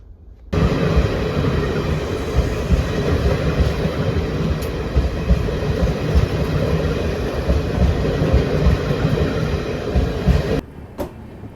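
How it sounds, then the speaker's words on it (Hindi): A train rumbles steadily at close range at Kanpur Central railway station, a broad continuous roar with faint metallic rattling, starting abruptly and cutting off near the end. "हमारी ट्रेन जाके खड़ी हो चुकी है कानपुर सेंट्रल रेलवे स्टेशन पर"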